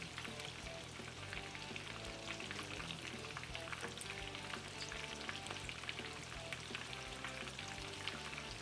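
Eggplant slices frying in oil in a pot give a steady, close sizzle and crackle with no pauses and no talk.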